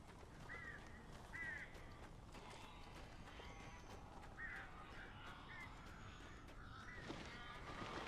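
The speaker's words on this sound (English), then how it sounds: "These birds are weird." Crows in the video game Alan Wake give several harsh, scattered caws at a moderate distance over a constant noisy ambient rumble.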